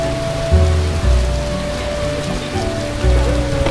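Steady rain falls in a scene from The Witcher video game, a dense continuous patter with low rumbling swells coming and going beneath it.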